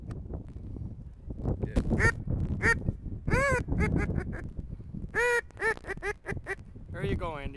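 Ducks quack at a quarry during a bird-dog training session, a run of loud, nasal calls in irregular bursts, close and clear over light background noise.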